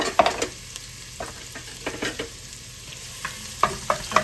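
Onions frying in a pan as the base for a lasagna meat sauce, giving a steady close sizzle broken by repeated scrapes and clacks of a stirring utensil, with no talking.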